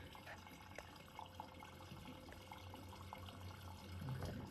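Water runs steadily down a just-unclogged bathroom sink in an 1890 Victorian house, a soft, continuous faucet-fed trickle and gurgle heard fairly quietly and close, with faint background noise.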